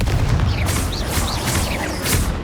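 Confringo spell blasts in the Hogwarts Legacy video game, a dense run of fiery bursts and booms with whooshing magic effects, loud and continuous amid combat noise.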